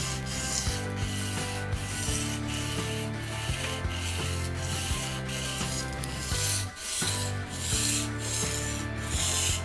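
A kitchen knife is sharpened with slow strokes up the blade at a constant angle, making a steady rasping rub that repeats in even passes, close and fairly loud with no talking.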